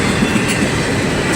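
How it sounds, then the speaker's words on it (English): A long freight train with many empty cars rolls past close by, a loud continuous rumble of wheels and rattling cars with faint clickety-clack. "a pretty long train right here. Maybe 2 miles long."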